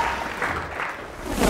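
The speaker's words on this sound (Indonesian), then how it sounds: "tepuk tangan, tepuk tangan." Applause breaks out among the audience at a strongest-punch competition final with celebrity guests, a short burst of clapping that swells toward the end, close and fairly loud.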